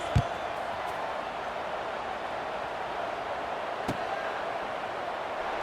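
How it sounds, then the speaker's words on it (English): A stadium crowd at a college football game keeps up a steady, far-off buzz after a score, a continuous roar with a couple of sharp thumps near the start and just before the four-second mark. "this crowd is buzzing after that last score"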